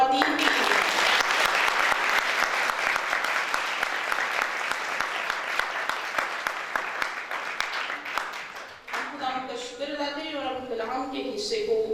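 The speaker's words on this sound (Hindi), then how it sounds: "ज़ोरदार ताली हम ख़वातीन के लिए" Loud, sustained applause from a church congregation during a White Gift Sunday candle service in Lahore, dense clapping that fades near the end as a voice begins speaking.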